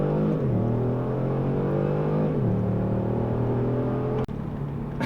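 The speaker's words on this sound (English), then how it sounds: "that is how you do launch control in a Kia Stinger" A Kia Stinger launching hard under launch control, its engine note climbing through gears in rising sweeps with brief drops at each shift, loud and close from inside the car, ending with a sharp click.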